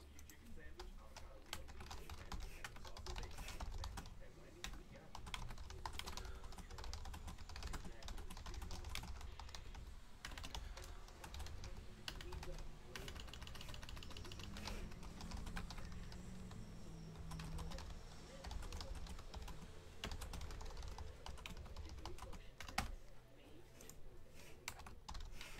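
Steady typing on a computer keyboard, continuous rapid key clatter running close and moderately loud throughout, with faint background noise.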